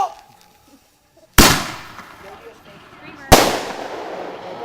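Two sharp, loud firework or firecracker blasts go off a couple of seconds apart outdoors during a May long weekend, each bang trailing off into a crackling, rumbling decay after a quiet start.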